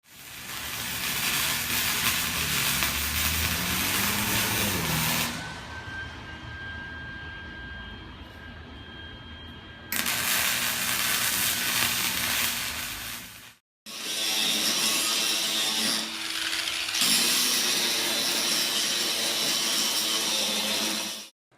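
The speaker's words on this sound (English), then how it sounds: "the plan now is to turn this over and weld the other side" Steel is welded on a welding table in loud, sustained bursts of harsh crackling buzz that start and stop abruptly, with quieter hum and a faint tone in the pauses, close up and with no voices.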